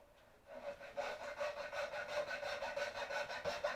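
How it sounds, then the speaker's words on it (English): A small diamond file rasps a chamfer onto the edge of a wooden trinket box lid, close and steady, with quick rhythmic back-and-forth strokes that run evenly for several seconds after a quiet start. "This little file is just a little diamond file."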